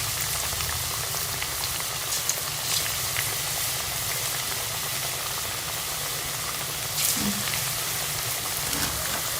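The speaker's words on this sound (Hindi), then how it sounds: "आपने इसको मीडियम आंच पे जो है आपने चिकन को फ्राई करना है।" Chicken pieces fry in oil over a medium flame for Chicken Manchurian, giving a steady, even crackling sizzle with occasional louder pops, close and continuous.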